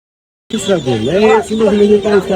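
Several chickens cluck and squawk loudly and close by at a poultry market in Khulna, their calls overlapping in a busy, continuous chorus.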